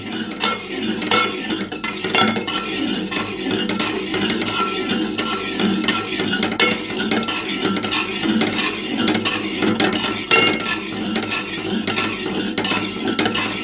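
Continuous stirring of a milk, powdered sugar, milk powder and cornflour ice-cream mixture in a metal pot over gas, with repeated close scraping strokes and occasional clinks of the spoon against the pan.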